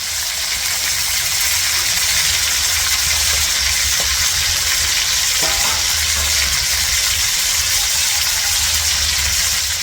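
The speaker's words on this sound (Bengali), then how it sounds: "মা এখানে সব মাছগুলো ভেজে নিচ্ছে" Fish frying in hot oil for a sour fish curry, with a loud, close, continuous crackling sizzle that runs unbroken throughout.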